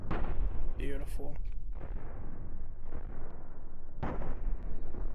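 Spaceship cannon shots striking an enemy cockpit in the Cosmoteer space combat game, heavy booming impacts in a rapid burst with a loud crack near the start and another near the end, over continuous rumbling battle noise.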